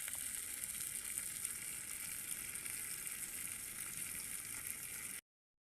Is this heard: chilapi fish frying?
yes